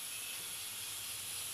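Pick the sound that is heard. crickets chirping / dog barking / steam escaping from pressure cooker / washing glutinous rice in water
steam escaping from pressure cooker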